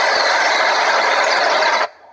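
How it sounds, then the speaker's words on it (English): A forest nature soundscape played at a Xiaomi MIUI 10 launch event, a dense rustling wash with faint ticking texture heard alone, cutting off abruptly near the end. "and this is the sound of the forest"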